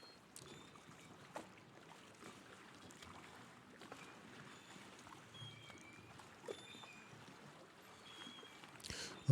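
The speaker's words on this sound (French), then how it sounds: "j'ai pris un son d'ambiance de port maritime qui sonne comme ça" Seaport harbor ambience: a steady, quiet wash of waves against the quay with the faint creak and knock of moored boats, distant seagull cries now and then, and a soft rumble of wind.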